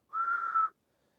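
A single steady whistle made by blowing air through pursed lips, demonstrating a narrowed airway. It is a clear, sustained tone lasting just over half a second, heard alone with no talking.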